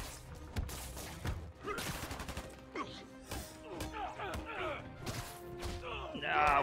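Gunfire and impacts in the Marvel's Spider-Man Remastered video game on PC: bursts of shots and thuds layered with game music and effects, with someone talking over the action.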